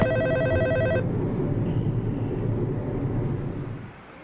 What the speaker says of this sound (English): do you hear that phone ringing?